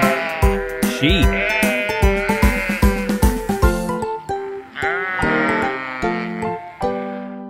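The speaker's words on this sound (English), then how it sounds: "Sheep." Repeated sheep bleats, wavering and nasal, come in a quick series of close, loud calls over a musical backing in a children's animal song.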